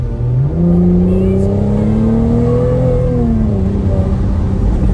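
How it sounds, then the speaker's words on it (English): A Mercedes SL400 in Sport Plus mode accelerates hard, its engine note rising smoothly through a gear, dropping at the shift and climbing again, loud and close with no talk. "You put it in the Sport Plus mode, which I'll do now for you. That's in the Sport Plus mode, and listen to the sound."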